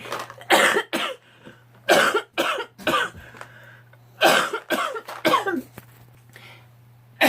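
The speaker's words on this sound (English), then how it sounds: "Still coughing." A run of harsh, repeated coughs in bursts, close and fairly loud, with short pauses between fits and a low steady hum underneath.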